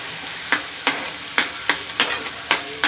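Dal with ginger-garlic paste being stirred in a pan, giving a steady run of sharp scraping strokes about every half second over a faint sizzle, close and clear with no voices.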